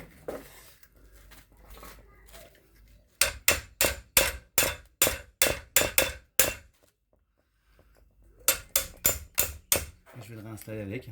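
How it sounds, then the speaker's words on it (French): A small hammer strikes a part on a Renault Twingo in a steady run of loud metallic blows, pauses briefly, then resumes with another quick series, with someone talking faintly in between. "Je pense qu'il va falloir jouer du marteau."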